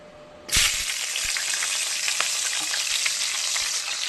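Chopped green chillies hit hot oil at about half a second, bursting into a loud, steady sizzle that holds for several seconds with faint crackles, no voices.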